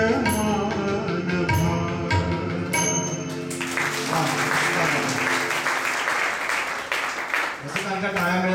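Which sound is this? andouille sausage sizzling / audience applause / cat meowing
audience applause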